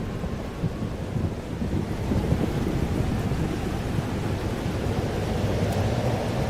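Thunderstorm in the video game Life is Strange: Double Exposure, with steady heavy rain and rolling thunder that builds into a dense, loud, continuous roar, no voices.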